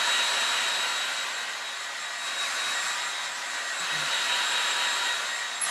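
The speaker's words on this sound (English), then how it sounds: "So I'm using the hot setting on the blow dryer." A handheld blow dryer on its hot setting, aimed at freshly applied ink on a t-shirt, gives a steady whooshing airflow with a thin motor whine, heard close and alone throughout.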